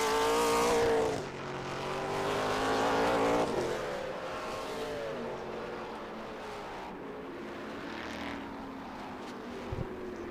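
GT race cars roar through turn 1 at Road Atlanta during an International GT sprint race, a loud engine howl at the start easing into a sustained, rising and falling drone of several cars near and passing, with no talk.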